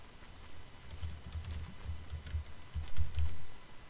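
Keystrokes on a computer keyboard while expense details are entered into a tracking form: quiet, fairly steady soft taps in short runs, close and faint against a low background, with no talking.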